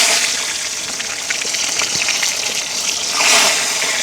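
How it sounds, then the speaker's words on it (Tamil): Aubergine dropped into boiling oil over an outdoor village cooking fire gives a loud, steady frothy hiss and crackle that swells briefly near the end, with no one talking. "நாங்கள் கத்திரிக்காயை பொரிய விடுவோம்."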